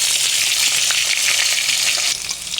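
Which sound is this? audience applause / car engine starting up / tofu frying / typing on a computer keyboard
tofu frying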